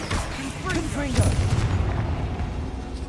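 A Confringo fire spell explodes in the video game Hogwarts Legacy: loud booming blasts with crackling fire and debris fill the clip, with game voice sounds mixed underneath.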